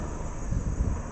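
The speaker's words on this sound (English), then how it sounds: "Oh, it's a helicopter." A helicopter passes overhead near a rural cabin build site, heard as a steady low rumble with faint rhythmic thumping that swells slightly midway, alone without talk.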